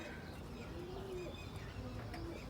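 Pigeons coo softly in their coop, with low, rolling calls repeating over quiet background hiss. The birds sound faint and at a moderate distance, and no one speaks.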